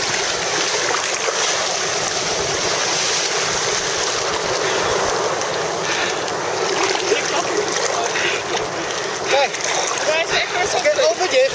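Ocean waves surging along the Otter Trail coast in rainy weather: a continuous loud, broadband wash of surf and splashing water that fills the whole stretch, with voices faintly heard near the end.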